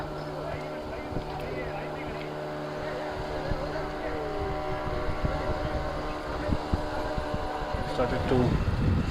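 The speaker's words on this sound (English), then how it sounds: "So we have these boats returning with the catch now." Fishing boats returning with their catch to a harbor in Bhatkal, India, motors droning steadily in the distance, a low hum with some wind noise and faint voices mixed in.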